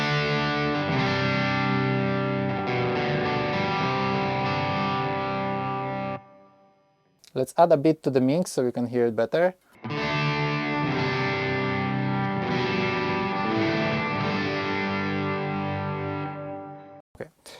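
Electric guitar played through a Red Seven Leviathan preamp in a Line 6 Helix rig, with heavy reverb and distorted, chorused tone: sustained chords, a short gap and a brief burst of notes, then chords again, loud and close.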